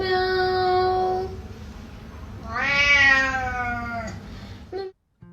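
A cat meows twice in long, drawn-out cries, close and loud, followed by a short squeak before falling quiet.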